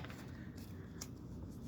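A tarot card deck being shuffled by hand, soft papery riffling and sliding of cards close up, continuous over a short stretch with no talk.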